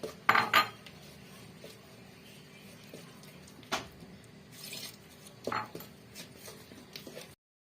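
A large spoon stirs a pot of Moroccan harira soup after tomato paste and spices are added, with scattered metallic clinks and scrapes against the pot between quieter stretches, close and distinct.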